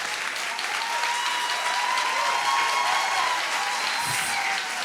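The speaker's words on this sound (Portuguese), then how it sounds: "Salva de palmas." Sustained, loud applause from a ceremony audience at an installation event, a steady wash of many hands clapping without pause for several seconds, with faint crowd noise underneath.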